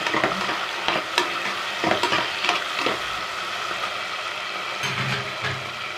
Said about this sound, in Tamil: ரெண்டு தக்காளியை போட்டுக்கோங்க கொஞ்சம் நல்லா வதக்கி